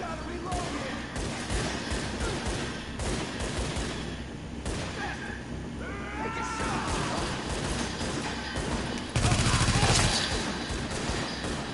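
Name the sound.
gunfire from a video game firefight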